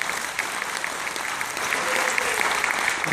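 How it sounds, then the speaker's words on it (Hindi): An audience claps loudly and steadily after a Hindi play staged in Australia, dense continuous applause that swells a little toward the end. "इनके लिए जोर से तालियां बजाइए।"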